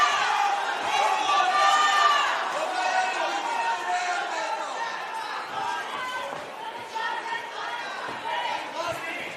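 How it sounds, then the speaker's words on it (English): A boxing crowd at an amateur fight roars and chatters steadily in the background, loud and continuous throughout, with a voice talking over the din. "The crowd, you can hear them in the background."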